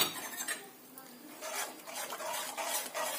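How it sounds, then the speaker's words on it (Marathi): Milk powder being stirred into warming milk in a pan, soft scraping and rubbing of a spoon against the pan in uneven strokes, quiet and close. "त्यामध्ये आता दूध पावडर घालायचंय. अजिबात गाठी होऊ द्यायचं नाही"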